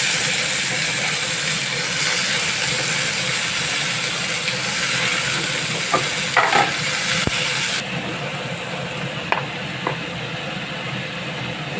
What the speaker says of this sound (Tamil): கடுகு நல்லா பொரிஞ்சதும் இந்த அவரைக்காய் போட்டுக்கோங்க